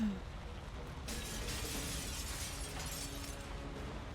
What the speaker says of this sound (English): What's that glass sound?